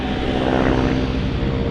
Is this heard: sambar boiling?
no